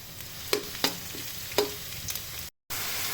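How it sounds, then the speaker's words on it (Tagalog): Fish sautéing in a hot pan with fish sauce, a steady sizzle broken by a few sharp scraping stirs of a utensil, close and fairly quiet, with a brief dropout near the end. "ginigisa ko yung ginigil para hindi siya masyadong malansa"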